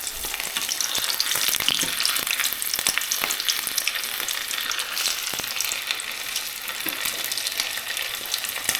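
Salt and pepper chicken wings fry in hot oil in a pan, a loud continuous crackling sizzle close by with scattered pops and the scrape of pieces being moved, no talking.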